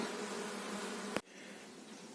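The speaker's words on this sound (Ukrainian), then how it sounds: "бджоли все одно щось літають, носять" A dense hum of many bees buzzing close by at an apiary hive, steady and continuous, with a brief click partway through.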